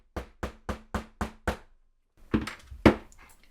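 Six sharp, evenly spaced taps on a rivet setter flattening a rivet on a faux leather bow purse charm, followed by a few duller, irregular knocks. Close and fairly quiet, with no voices.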